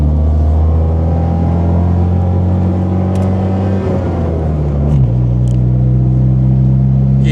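Polski Fiat 126 engine straining while climbing uphill toward a highway, a loud steady drone with pitch shifts as the gear changes midway, heard from inside the car with no talk.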